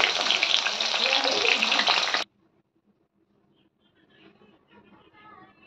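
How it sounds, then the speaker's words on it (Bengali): Pointed gourd and potatoes frying in hot oil give a loud, dense sizzle for about two seconds, then stop abruptly, leaving near silence with faint, quiet sounds. "আর এখানে কটা কাঁকরোল আর আলু ভাজা আমি ভেজে নিচ্ছি।"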